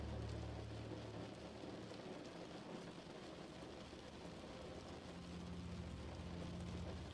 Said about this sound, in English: you only attend to the sound of the rain